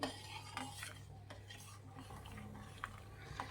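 Sugar being stirred into milk for a quick bread rabdi, quiet rhythmic spoon scrapes and clinks against a pot over a low steady hum, a few sharper taps standing out, close and with no talking.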